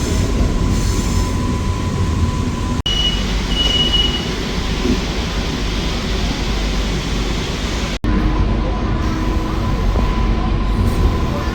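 An AC EMU suburban train pulls out of Chennai Fort station, with a loud, continuous rumble of wheels and motors heard from on board, a steady hum and brief squeals over the roar.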